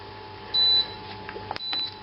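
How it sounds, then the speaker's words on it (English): A Robobrew all-in-one brewing system sounds its end-of-boil alarm during a pale ale brew, a steady electronic beep tone that starts and stops, followed by a few clicks and a second beep. "we've reached the end of the boil. And the alarm's going off."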